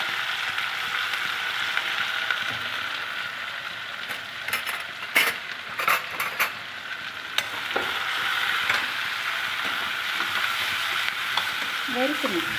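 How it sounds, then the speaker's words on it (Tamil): Spices sizzle and crackle steadily in hot oil, with a spoon scraping and stirring against the pan now and then. "நல்லா வதக்கணும்."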